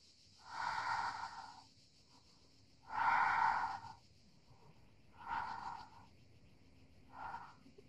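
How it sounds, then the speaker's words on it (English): Slow, deliberate breaths during a Hatha yoga practice come in four separate audible puffs, each about a second long with quiet gaps between, up close and softening toward the end. "Breathing in and out."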